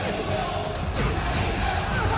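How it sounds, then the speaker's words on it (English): A large crowd at the Tekken 7 Evo 2019 tournament cheers in a steady, dense roar that fills the whole stretch, with commentator voices mixed in. "Wow, the crowd's loving it."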